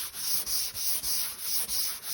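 Car primer is sanded by hand with a homemade flexible T-grip sanding block in quick back-and-forth strokes, about seven rhythmic rasping passes with short gaps between them, close and fairly quiet with no talk.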